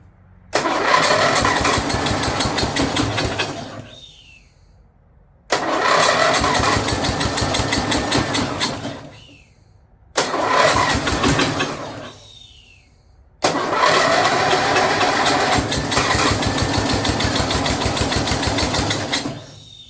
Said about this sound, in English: Let me try to rev it a minute.